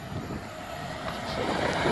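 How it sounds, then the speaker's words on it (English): LNER class 800 passenger train running from London King's Cross to Inverness, passing at a level crossing near Newark as a steady broad rumble and rush of wheels and air that builds slightly, with no talk. "This is the slightly early 13:09, 1:16 from London King's Cross to Inverness."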